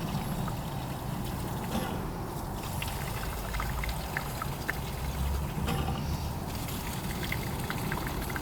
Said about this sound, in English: gas is just pouring out of the carb here